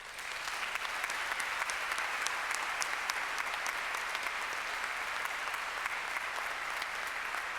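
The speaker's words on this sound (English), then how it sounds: "show them your appreciation by a round of applause" At a Monash University graduation ceremony, the audience gives sustained, even applause, a fairly faint, distant wash of many hands clapping.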